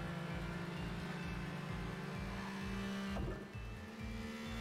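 Race car engines in the arcade racing game Horizon Chase Turbo, a loud, steady, pulsing buzz with a tire squeal that cuts in near the end, without talk.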